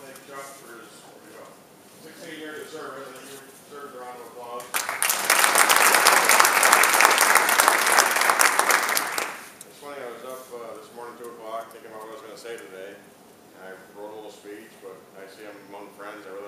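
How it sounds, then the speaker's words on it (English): At a 2013 Democratic caucus gathering in Massena, someone talks before a loud round of audience applause rises for about four seconds, then fades as his speech resumes over the quieted room. "you deserve a round of applause"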